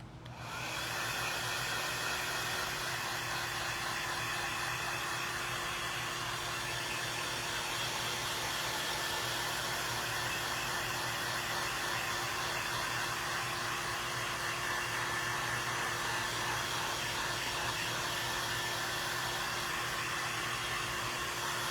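A heat tool blows steadily on craft baby-sign squares for the whole stretch, a continuous loud whooshing airflow with a motor hum underneath and no talk.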